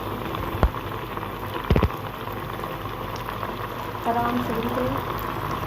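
Chicken pieces fry in hot oil with a continuous bubbling crackle, broken by a few sharp knocks from handling, while someone speaks over the cooking.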